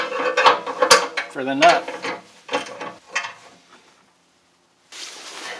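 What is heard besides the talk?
ratchet with 18mm socket tightening swivel seat nut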